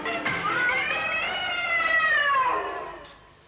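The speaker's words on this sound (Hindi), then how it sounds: "शेर की मौसी हैं, बिल्ली मौसी।" A single drawn-out cat meow, loud and close, rising then falling in pitch over about three seconds before trailing off into quiet.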